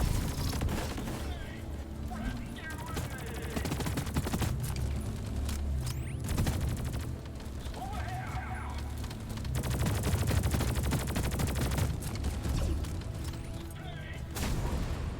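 Dense automatic gunfire from a first-person co-op game set in deep caves, rattling in sustained bursts over a busy layered background with short gaps, loud and continuous through most of the stretch; a player talks over it.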